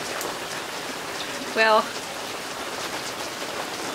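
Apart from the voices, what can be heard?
rain falling outside greenhouse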